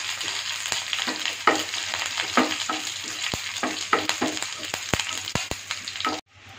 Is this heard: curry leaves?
yes